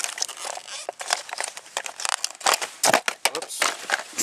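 Crinkly plastic packaging around a new grinding wheel is crumpled and torn in quick, uneven bursts of crackling, close up and fairly loud.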